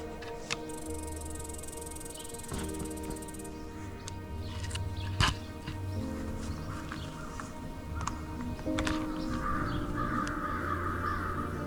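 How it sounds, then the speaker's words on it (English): Several crows cawing near an owl roost in springtime woods, their harsh calls coming in scattered bursts at moderate distance over a low steady background hum. "He was keeping a close eye on a few nearby crows."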